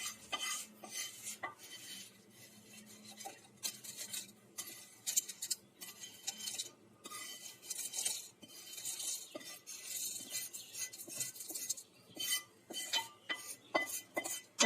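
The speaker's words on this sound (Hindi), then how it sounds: "ये पहले मैं सौंठ डाल देती हूँ इसमें जार में, और ये बाकी सब भी हम जार में डाल देंगे" Dried ginger and whole spices for Kashmiri garam masala are tipped into a grinder jar, giving a scattered run of light clinks, ticks and rattles close by, in quick uneven bursts with short pauses.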